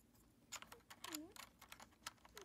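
Keys of a new hot-swappable mechanical keyboard with red switches, producing a handful of close, soft plastic clicks and taps in an irregular rhythm, heard alone in a quiet room.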